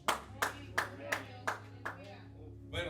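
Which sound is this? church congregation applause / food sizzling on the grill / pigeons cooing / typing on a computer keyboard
church congregation applause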